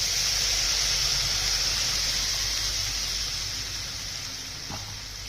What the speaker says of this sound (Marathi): आपण दह्याचं ते मिश्रण केलेलं ते टाकून घ्यायचं